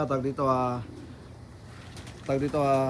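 Racing pigeons in a loft give soft, throaty coos in two close bursts separated by a quiet pause, near and moderately loud.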